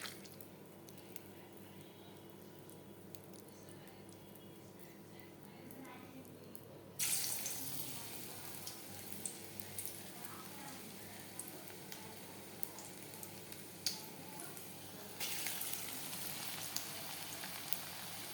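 Prawn pakora frying in hot oil: a faint background hiss jumps abruptly into a steady, moderately loud sizzle partway through, then rises again near the end with scattered crackles.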